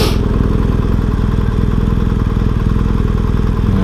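A motorcycle engine idles while the bike stands stationary, a loud, close, steady mechanical rumble with rapid even pulsing and light clatter that continues unbroken throughout.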